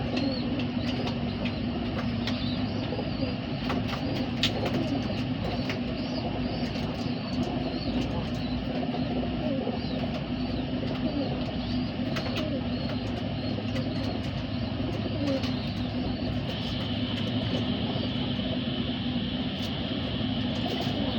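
Pigeons cooing amid steady outdoor ambience, with occasional soft flutters of wings, a continuous dense background of birds and distant traffic throughout.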